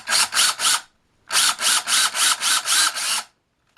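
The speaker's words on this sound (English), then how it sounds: "So using this bigger drill," A bigger drill bit boring countersink holes during an internet cutoff switch repair gives short, loud, whirring bursts: three quick pulses, a pause, then a longer series of closely spaced pulses.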